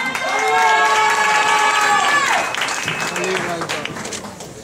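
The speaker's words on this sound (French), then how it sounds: "Candidate numéro 8, sous vos applaudissements." Applause and cheers from the audience at the Miss Saint-Denis pageant greet a candidate, loud clapping mixed with excited shouts and whoops that taper slightly toward the end.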